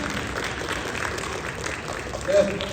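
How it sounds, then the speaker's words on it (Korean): Steady applause from a crowd at a book launch event, a continuous wash of clapping at moderate volume throughout. "큰 박수 부탁드립니다"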